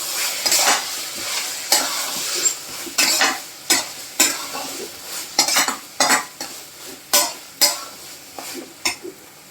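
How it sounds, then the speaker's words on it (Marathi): A spoon stirs crushed peanut powder into smoky eggplant bharit in a pan, with repeated sharp scraping strokes in an uneven rhythm over a soft sizzle, close and fairly loud. "दोन चमचे शेंगदाण्याचा कूट परत एकदा मिक्स करून घ्यायचं आहे"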